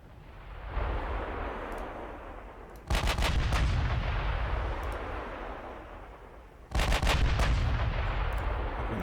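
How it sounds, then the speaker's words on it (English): Battleship main guns in the Ultimate Admiral: Dreadnoughts naval game fire in two heavy salvos, about four seconds apart, each a deep booming blast that rolls into a long rumbling decay over constant background noise. "Firing 6 guns for now."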